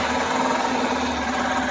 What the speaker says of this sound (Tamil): இந்த ரெண்டு வண்டியும் ஸ்டார்ட் பண்ணி இந்த ரெண்டு வண்டிக்கான எக்ஸாஸ்ட் நோட் எப்படி இருக்குன்னு கேட்கலாம்